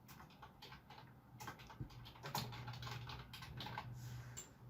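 Fingers type on a computer keyboard in a quiet room, a quick, uneven patter of soft key clicks running steadily for several seconds.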